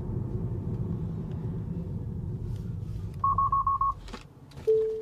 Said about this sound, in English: Auto emergency braking.